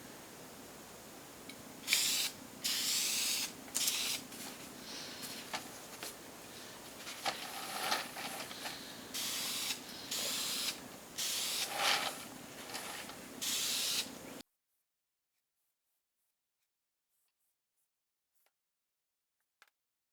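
Krylon spray finish hisses onto a wooden box resting on painting pyramids, laid on in a light coat of repeated short bursts with brief pauses between, close and fairly loud, ending in silence.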